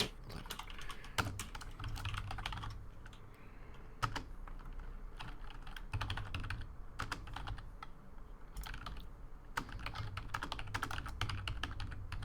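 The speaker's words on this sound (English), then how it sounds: "I'm gonna go drink while this typing 12, happens" Rapid, continuous clicking of fingers typing on a computer keyboard, close and fairly loud, with brief pauses between busy bursts of keystrokes.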